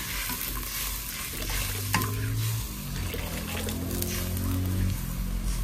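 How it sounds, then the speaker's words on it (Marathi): A pot of veg manchow soup bubbles and simmers steadily while a spoon stirs through it, with scraping and clinks against the pot; continuous, close, moderately loud. "आता आपण याला चांगली उकळी येऊन द्यायची."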